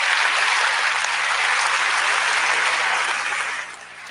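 Debate audience applauding Christopher Hitchens, a dense, loud sustained roar of clapping from a large crowd that holds steady for several seconds, then fades off near the end.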